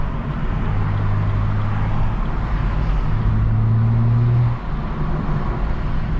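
BMW M135i with xDrive pulling up a winding road, a steady droning engine note holding strong under load, the pitch stepping up briefly before it eases off near the end.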